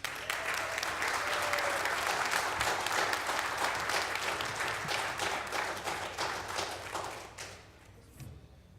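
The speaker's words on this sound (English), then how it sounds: "Let's welcome them with a big applause, please" An audience at a city council meeting claps hard and continuously for several seconds to welcome a group of Scouts. The applause fades out toward the end.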